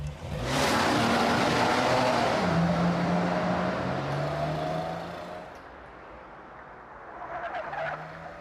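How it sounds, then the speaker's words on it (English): A car accelerates hard and speeds away, a loud engine roar with rising, shifting tones across several seconds that fades toward the end. "A few seconds later, I heard a car pulling off really fast."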